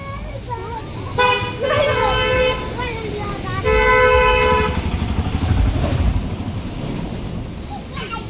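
A big vehicle passing on a village road at night, a nearby engine rumble with two sustained horn blasts, while children and adults talk in the background.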